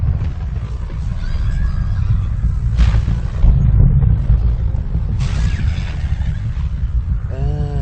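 Sandstorm wind rumbles through a movie scene, a loud, continuous low roar with gusting swells and a few brief whooshing surges, plus a faint tonal sweep at the end, with no speech.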